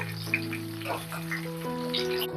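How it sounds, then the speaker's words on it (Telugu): Pieces of drumstick frying in hot oil in a pan, a soft crackling sizzle over a low steady hum, with a few brief bursts, brief and close. "ఇంకోండి ములక్కాయ ముక్కలు వేస్తున్నాను ఫస్ట్ వేపుకోవాలండి"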